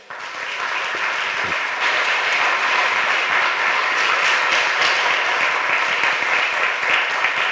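An audience applauds after a talk, sustained dense clapping that swells after the first moments and continues strongly to the end.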